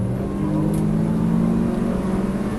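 Race car running on track at Circuit of the Americas, a steady droning engine tone heard from inside the car, loud and continuous with slight pitch shifts and no voices.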